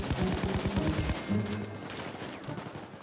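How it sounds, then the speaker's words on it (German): Gunfire during a bank heist in the video game Payday 2, a burst of rapid shots in the first second followed by scattered quieter shots under continuous background noise and game sounds. "Klaut alles! Es wird geschossen!"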